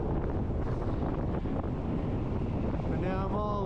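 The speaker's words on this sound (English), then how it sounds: "it's windy" Strong wind buffeting the microphone while a cyclist rides alone in a 150-mile road race near Kamas, Utah, a loud constant roar throughout, with someone speaking briefly over it.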